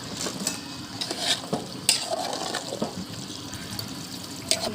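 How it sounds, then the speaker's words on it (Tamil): Vegetables for veg biryani sauté in a large pot, a dense, wet sizzle with steady stirring and a few sharp metallic scrapes, close and fairly loud throughout. "இப்போ காய்கறி சேர்த்து வதக்கலாம்"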